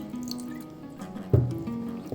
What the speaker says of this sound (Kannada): ಇವಾಗ ಇನ್ನೊಂದು ಸ್ವಲ್ಪ ನೀರು ಹಾಕ್ಕೋತೀನಿ